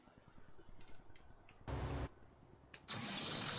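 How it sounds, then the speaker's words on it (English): Tractor engine starting in the Farming Simulator 19 video game, a brief cranking burst followed by the engine catching into a steady loud run, over quiet game ambience. "Start our tractor."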